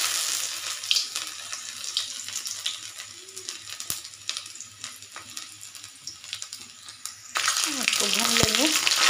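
Garlic and ginger sizzling in hot oil in a kadhai, a steady bright frying hiss, with a soft voice speaking briefly near the end.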